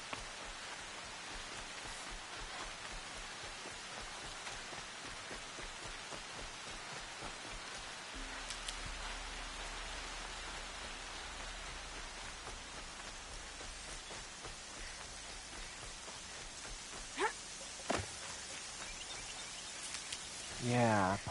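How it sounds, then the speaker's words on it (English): Rain falls steadily in the video game Horizon Zero Dawn, a continuous soft hiss of drops on the ground that runs throughout, with a low rumble midway and a few brief sharper game sounds near the end. "Rain's not so bad."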